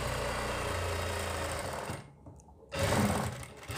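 A sewing machine runs fast and steady stitching a kurti seam, pauses briefly for about half a second, then starts up again at full speed, close and loud.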